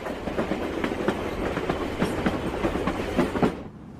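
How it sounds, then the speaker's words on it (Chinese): A train running on rails, with a steady rolling rumble and rhythmic clickety-clack of wheels over track joints, loud and close, fading out at the end. "主席的专列已经出发了"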